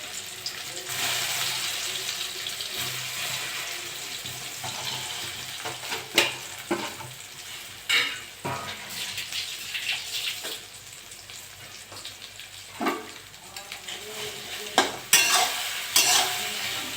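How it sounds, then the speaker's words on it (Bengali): Soybean chunks frying in oil in a pan, a continuous near sizzle with intermittent spatula scrapes and stirring knocks that grow more frequent toward the end, no voices. "আমি সয়াবিনগুলো ভেজে নেব।"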